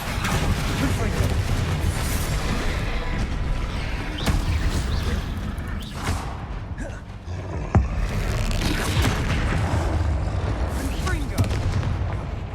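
Confringo fire-blast spells explode repeatedly during Hogwarts Legacy combat, with several sharp booms standing out over a dense, continuous wash of battle noise.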